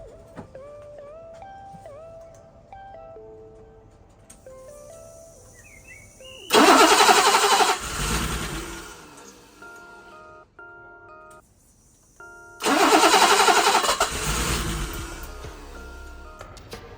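A BMW E23 engine running on brake cleaner cranks with a rising starter whine, then fires and roars loudly for a few seconds before dying. After a pause it cranks again and catches with a second loud burst, heard close up.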